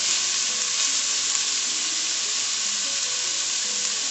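Onions, garlic and seasoning frying in a pan on medium-high heat for beef gyros, a steady close, loud sizzle with a dense hiss that holds even throughout, no voices.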